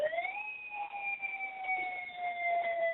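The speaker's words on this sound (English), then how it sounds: "that's our siren going off in the background" Federal Signal outdoor warning siren set off by an IPAWS alert, a steady wailing tone that rises briefly then holds and slowly drifts down, heard at moderate distance.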